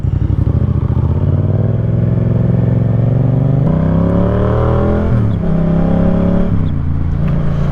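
A small Honda motorcycle engine runs loud and close after a cold start, held at a steady rumbling idle and then revved in rising and falling surges, with no talking.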